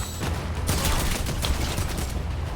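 Rapid pistol gunfire in a video game, a loud dense volley of overlapping shots running continuously throughout with no pauses.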